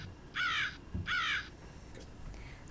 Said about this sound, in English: I'm a crow.